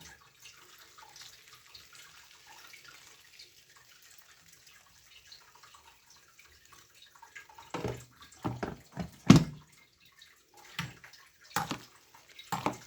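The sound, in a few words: washing omena fish in hot water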